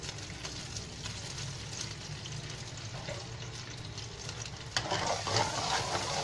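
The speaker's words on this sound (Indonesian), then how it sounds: "Biarkan dia mendidih sekejap." Liquid bubbles and simmers in a pan while mee kuetiau cooks. The sound is a steady, dense fizzing hiss that grows slightly louder and busier near the end.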